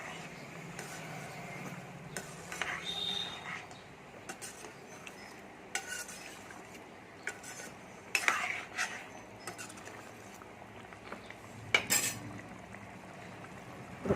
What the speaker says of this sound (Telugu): ఇప్పుడు కొద్దిగా పచ్చి కొబ్బరి కొద్దిగా కసూరి మేతి ఒకసారి బాగా కలపాలి